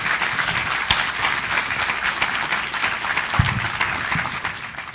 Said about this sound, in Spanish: quisiera que le brindemos un fuerte aplauso